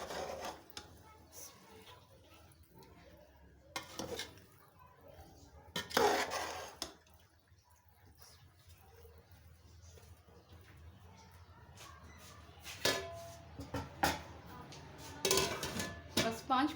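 Soy sauce and vinegar being mixed in a bowl, with scattered clinks and scrapes of a utensil against the dish in short bursts over a quiet room background.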